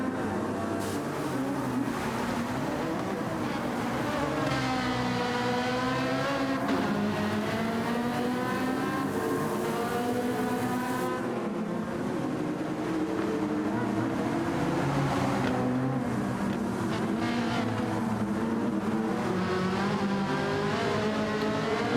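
Race car engines droning and revving continuously in a racing video game league race at Autopolis, layered engine notes shifting pitch through gear changes, loud and steady throughout.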